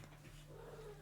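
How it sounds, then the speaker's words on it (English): A house cat meows faintly in the background, a single soft drawn-out call near the end over a low steady hum. "I think I hear Kitty"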